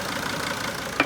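A Sprinter diesel engine idles with a steady, dense rumble and a fairly loud, even drone, broken only by a brief sharp tick near the end.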